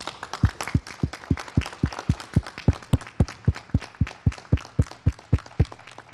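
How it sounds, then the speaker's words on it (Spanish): Steady rhythmic clapping, evenly paced beats repeating for several seconds, sounding like a group clapping in unison rather than scattered applause. "les mandemos un fuerte aplauso"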